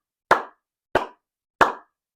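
Three crisp hand claps mark a beat grouped in threes, evenly spaced about two-thirds of a second apart, each short and dry against total silence.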